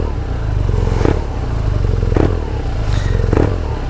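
A motorbike engine idles close by in a steady low rumble, with three evenly spaced blips of throttle that swell briefly before settling back.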